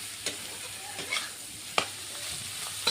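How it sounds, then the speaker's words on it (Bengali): Cumin paste frying in a pan gives a soft, low sizzle, with a few sharp spoon scrapes and taps spaced through it. "হয়েছে, ভালো করে ভেজে নিচ্ছি।"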